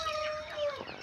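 A sick, listless chicken with a respiratory illness makes a short, hoarse, rattling call, heard close and alone for about a second.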